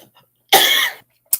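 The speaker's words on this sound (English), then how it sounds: "coughing." A single sharp, loud cough up close, about half a second long, in a quiet room during a spicy chili tuna meal, followed by a brief breathy catch.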